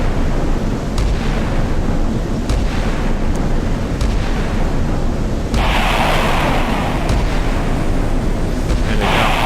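Naval guns fire in a Sea Power naval battle against bomber raids. Repeated booming shots land at a steady rhythm over a continuous loud roar of battle, and the firing grows denser and brighter partway through.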